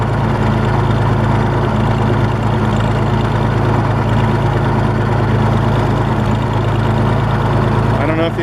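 An Oliver 70 tractor engine idles steadily with a deep, continuous rumble and faint mechanical clatter, close by and unchanging.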